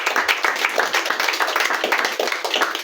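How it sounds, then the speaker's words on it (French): A church congregation claps and applauds for the Lord, a dense, lively patter of many hands close by with some voices mixed in. "On acclame pour notre Seigneur."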